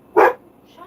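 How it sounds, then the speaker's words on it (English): Comet, a pet dog, gives a single sharp bark at someone arriving at the door, short and close, followed by near silence. "Stop barking at Gamal."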